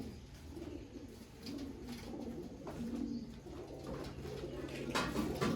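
Pigeons coo in a small pigeon loft in Baruipur, soft low throaty calls overlapping in a steady murmur with occasional wing or movement rustles, fairly close and moderately quiet.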